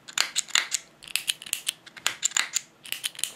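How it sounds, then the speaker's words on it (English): Sharp mechanical clicks repeat in quick irregular bursts, close and crisp, from a Taiwanese-made Mammoth 3PDT foot switch being pressed over and over, with no talking. "this is the cheapest Mammoth switch that they have, which is the Taiwanese, the Taiwan type"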